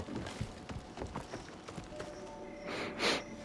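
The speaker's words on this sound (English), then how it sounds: "Now let's summon my horse." A summoned horse approaches in Assassin's Creed Shadows, with faint clip-clop hoofbeats at an uneven trotting rhythm, then a breathy snort near the end, quiet and slightly distant.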